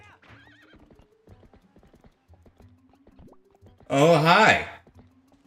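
A horse walks with clip-clopping hooves in a steady uneven rhythm, then lets out a loud close neigh. A person briefly speaks a greeting over the hoofbeats.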